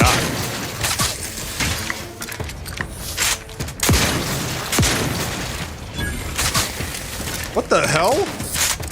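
Mortars launched in The Outer Worlds 2 thump and boom repeatedly amid chaotic combat noise, with a sweeping whistle near the end, under excited player talk.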